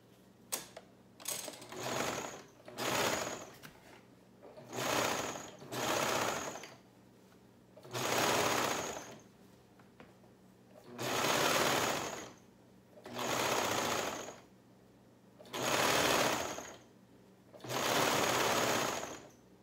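Sewing machine joining the sleeve and bodice layers of a shirt at the armpit seam, whirring in repeated bursts of one to two seconds separated by short pauses, clear and alone.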